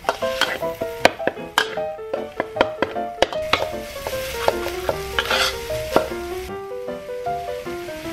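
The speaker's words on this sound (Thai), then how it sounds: "เราใส่กุ้งกับหมูสับของเราลงไปผัดนะครับ" Shrimp and minced pork are stir-fried in southern Thai curry paste in a pan, with a steady sizzle under repeated rhythmic scraping and clinking of a spatula against the pan, close and moderately loud, no talk.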